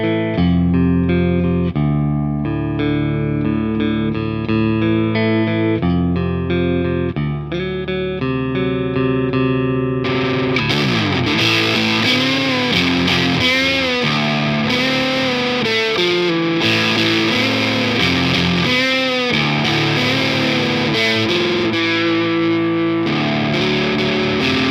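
A distorted riff on a Harley Benton Classic MR with P90 pickups, played on the middle pickup position: chugging, choppy chords at first, then a dense, roaring wall of overdriven strumming, loud and close throughout.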